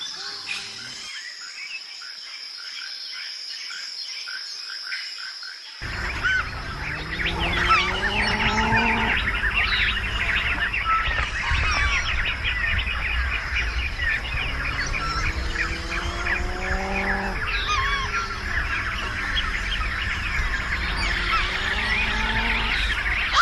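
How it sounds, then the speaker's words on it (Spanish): A bittern, the bull heron, gives deep booming calls, repeated roughly every few seconds and fairly near, over a dense, constant chorus of other birds and insects after a quieter opening. "Esta es la llamada garza toro. Es como si hubiera aprendido el idioma del búfalo por error."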